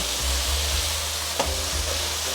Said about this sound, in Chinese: 快速翻炒，哇，好香哦！